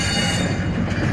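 Long Pakistan Railways freight train rolling through Rohri station at the junction of the Karachi and Quetta lines, a steady loud rumble of wagons on rails with faint wheel squeal throughout, no voices.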